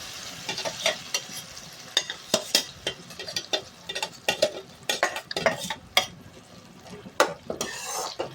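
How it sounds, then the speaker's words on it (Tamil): Ground jackfruit is stirred into payasam in a pan, with a quick, irregular run of close scraping and soft clinking strokes of a spoon against the metal and no talking. "இப்போ அரைச்ச பலாப்பழத்தை உள்ளே சேர்க்குறேன்."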